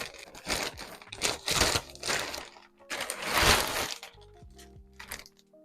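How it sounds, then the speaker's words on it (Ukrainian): Crinkling and tearing of packaging in several bursts, close by, with rustling plastic between louder rips. "ось так виглядає моя посилка, перша посилка з тему. Відкриваємо."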